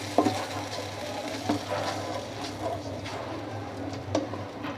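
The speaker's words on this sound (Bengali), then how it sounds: "দিয়ে আমি ভালো করে নেড়ে মিশিয়ে নিচ্ছি।" A spoon stirs momo soup with tomato sauce and chili sauce in a pot, soft scraping and clinks at scattered moments over a low, steady simmering hum.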